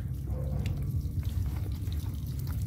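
Water runs from a hose hooked up to cool a 1732cc four-cylinder Kubota diesel engine from a Bobcat, a soft steady trickle and splash heard quietly over a low rumbling background.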